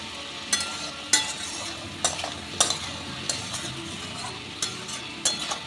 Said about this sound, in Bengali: চিনি আর লবণটা দিয়ে অল্প একটু নেড়ে দিয়ে দেব